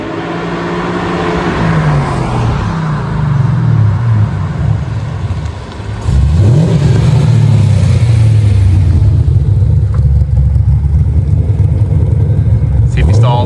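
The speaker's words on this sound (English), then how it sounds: "That car sounds fucking sick, dude." A car engine revving hard as someone else drives it, heard from outside: rising and falling engine pitch with a dip and a fresh surge of revs midway, loud and close, with people talking over it.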